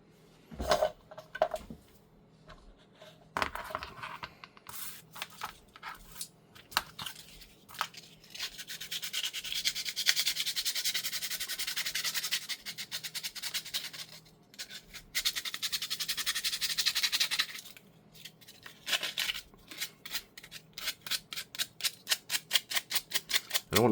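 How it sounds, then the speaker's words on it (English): Plastic parts being hand-sanded, close-up, with quick rasping strokes that settle into a long continuous stretch of scrubbing and then return to short rhythmic passes, and no talking. "I don't want to sand too much because there is some texture on these plastic pieces that I wouldn't mind keeping"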